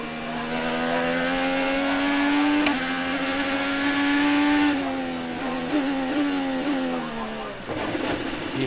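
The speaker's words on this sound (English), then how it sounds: "You hear the engine start to go quiet" An IndyCar engine screams at high revs from onboard at St. Petersburg, its pitch rising and dipping through gear changes, loud and continuous, with a drop near the end as the engine goes quiet.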